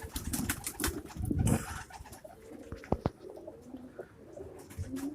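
Pigeons coo softly nearby, with a burst of wing flapping and rustling early on, then quieter cooing and a few sharp clicks.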